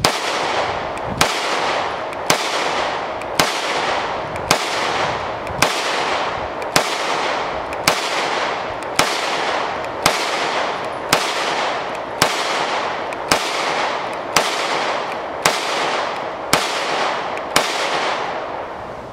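An HK P30 pistol fires at a range, a steady string of about eighteen loud, sharp shots evenly spaced roughly one second apart, close by with no talking.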